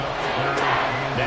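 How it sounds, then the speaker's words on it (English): Crowd noise at an NFL football stadium forms a steady, dense roar throughout, loud and unbroken, with a commentator's voice running over it. "this crowd trying to force a false start here"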